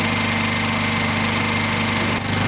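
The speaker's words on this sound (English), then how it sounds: "Just thawing out the chainsaw so we can use it to cut off some planks on our hoist platform." A chainsaw engine idling in the cold at an Adirondack cabin, a loud steady buzzing drone with rapid pulsing vibration that dips briefly near the end before resuming.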